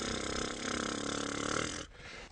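A low, buzzing didgeridoo drone sounds steadily for nearly two seconds, then cuts off, leaving faint breathy noise.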